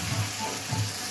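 Crushed tomato hits hot oil in a pan, giving a steady close sizzle with soft stirring movements and a brief sharper clatter right at the end.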